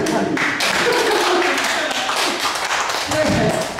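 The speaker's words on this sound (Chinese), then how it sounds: "给他掌声鼓励" A room full of people clapping to congratulate someone on a successful marriage proposal, a dense, steady burst of applause close by that carries through the whole moment.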